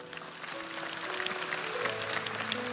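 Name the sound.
applause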